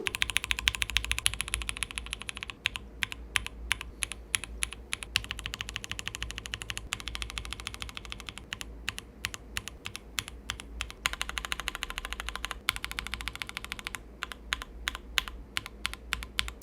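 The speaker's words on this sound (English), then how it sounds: "The omission of the plate foam has introduced some rather unpleasant metallic pingy sounds." Continuous clacky typing on a QK65 mechanical keyboard without plate foam, fast and close, with thin metallic pings ringing on some keystrokes such as U, M and Escape, no voices.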